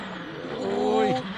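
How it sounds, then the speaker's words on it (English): A Mini John Cooper Works rally car at Rally Sweden revs hard in a brief rising engine burst, heard under a commentator's talk. "just using the power to pull that Mini John Cooper's works out of that bit of trouble"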